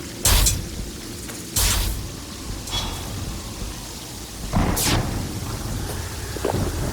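Thunder rumbles through a Terraria storm, several loud cracks and rolls rising out of a steady rain hiss, each burst fading back into the downpour.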